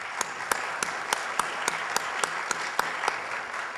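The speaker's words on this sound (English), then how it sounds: "Let's give them a big round of applause," An outdoor crowd at a Manatee County distinguished citizen award ceremony applauds, with sharp, evenly spaced claps standing out over a softer wash of clapping, fairly distant and moderately quiet.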